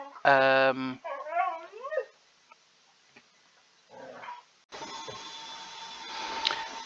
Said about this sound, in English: my dog thinks he can talk to me